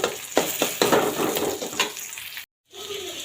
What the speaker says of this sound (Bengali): কাঁচামরিচ পেঁয়াজ ভাজা হয়ে গেছে।